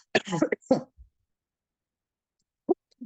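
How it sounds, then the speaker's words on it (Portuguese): A couple of harsh throat-clearing coughs close up, followed by a long silence and a faint short burst near the end. "eu tô com essa tosse agora."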